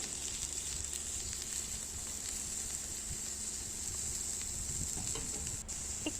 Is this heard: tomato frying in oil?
yes